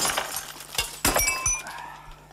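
Glass objects clinking and breaking, several sharp crashes at close range with ringing shards, the strongest impact near the middle, then fragments settling and fading.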